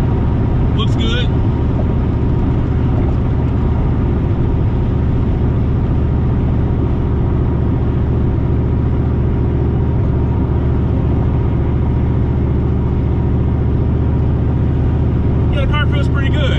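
Turbocharged Ford Mustang pulling at wide open throttle, heard from inside the car as a loud, steady, droning engine and road roar, with brief sharp clicks near the start and end.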